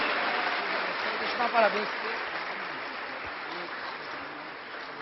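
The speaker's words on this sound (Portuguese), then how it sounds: "Vamos dar muitas salvas de palmas para o Senhor." A church congregation at a wedding ceremony applauds in a steady, even patter that sounds somewhat distant and muffled, while a voice speaks briefly over it.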